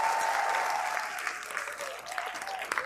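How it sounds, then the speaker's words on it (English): An audience of women at a Haitian ladies' symposium applauds for a speaker, the clapping steady and moderately loud at first, then thinning and softening with scattered claps toward the end. "Please, ladies, give this woman a round of applause."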